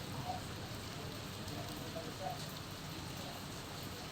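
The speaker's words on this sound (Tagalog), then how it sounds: "umuulan pa rin po" Rain falls steadily during a typhoon, a soft continuous hiss with faint drips, quiet and even throughout.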